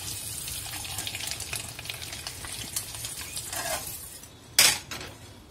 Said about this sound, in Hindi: इसकी परत ऊपर से थोड़ी सी ब्राउन हो जाए तब तक हम इसको फ्राई करेंगे